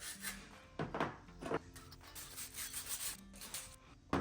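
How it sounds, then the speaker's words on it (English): Scraping and scratching inside a copper plumbing fitting to clean it before soldering, with short rough rubbing strokes and a few sharp clunks of handling, quiet and close. "Clean the inside of this out. Scratch it up."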